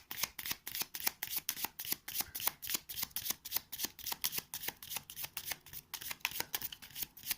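A deck of game cards shuffled over and over, a steady run of quick crisp riffles and slaps in a regular rhythm, close and fairly quiet with no talking.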